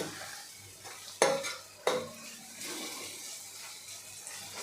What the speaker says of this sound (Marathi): आता हे सगळं आपण मिक्स करून घेऊ परतून घेऊ